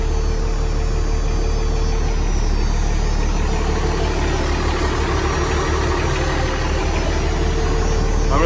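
A 12-valve Cummins diesel engine idles steadily and loudly up close, its low, even rumble running without a break and with no voices.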